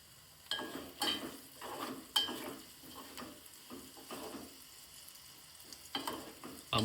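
Chopped green chillies with coriander frying in a pan, close sizzling with repeated scraping stirs in an uneven rhythm, the spatula knocking the pan now and then.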